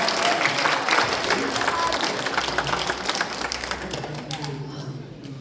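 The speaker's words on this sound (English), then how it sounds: "Big round of applause." A crowd applauding at a Sunday gathering, dense clapping that is loud at first and gradually thins and fades, with voices mixed in.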